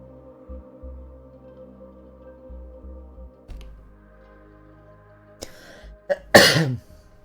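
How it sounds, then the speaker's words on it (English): A steady low tonal hum plays softly, then near the end a sharp, close cough breaks through, loud and brief. "sorry for coughing a bit"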